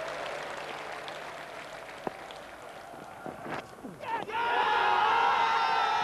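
A cricket ground crowd at the South Africa versus England fourth Test sits fairly quiet under a commentator's voice, then bursts into loud, sustained applause and cheering near the end.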